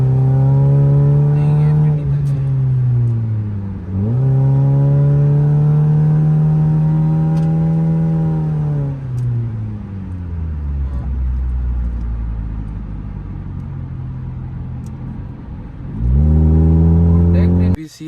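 Suzuki Swift fitted with a JDM exhaust revving repeatedly, each rise climbing to a sustained drone before dropping back to a deep rumbling idle, loud and close, with a final sharp rev at the end.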